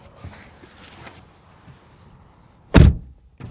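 From inside a 2021 Lexus RC 350 F Sport, the car door is opened with faint rustling and clicks, then closed with one solid, heavy thud, followed by a light knock.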